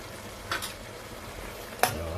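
Shrimp sautéed in shrimp paste with chicken skin in a pan, a soft steady sizzle with two brief scraping stirs of a utensil against the pan.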